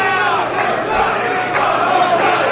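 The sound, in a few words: wrestling crowd chanting for one more chop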